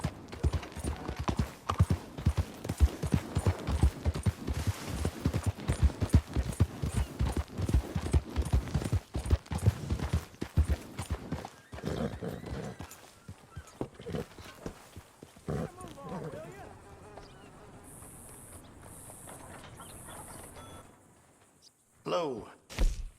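Horse hooves in the video game Red Dead Redemption 2 clop in a fast, steady rhythm, loud and close for the first half, then slow and fade to softer, scattered thuds.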